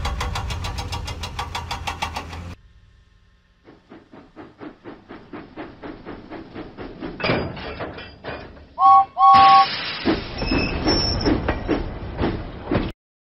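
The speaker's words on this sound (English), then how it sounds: "James pumped his pistons and puffed out of the docks." In a Thomas and Friends video game, a cartoon steam engine at the docks chuffs away in quickening rhythmic puffs, with a whistle blast partway through and clanking, hissing effects, fairly loud and close.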